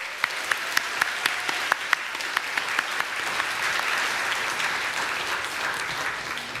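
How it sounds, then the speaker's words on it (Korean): A church congregation at a Sunday worship service applauds, a dense, steady round of clapping with a few sharp, prominent individual claps standing out early on. "여러분의 격려에 큰 박수를 주시기 바랍니다"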